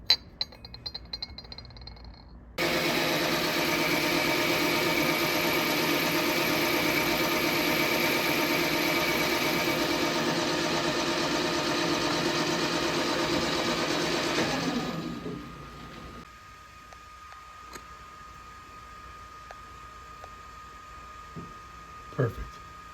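Machine running steadily while boring out a fan motor part for a bus air-conditioning unit, a loud continuous mechanical hum that starts abruptly and winds down after about twelve seconds, then quiet clinks.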